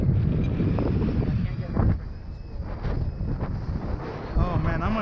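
Strong wind buffets the microphone at a model jet flying field where an HSD Mirage 2000 110mm EDF is flown, a steady roaring rumble with gusts, under occasional talk.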